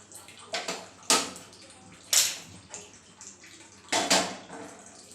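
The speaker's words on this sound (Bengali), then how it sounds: "কড়ার মধ্যে একটু জল দিয়ে দেবো" Water splashes into a kadai (wok) in several short bursts, a few close, bright pours and clatters with quiet gaps between them in a home kitchen.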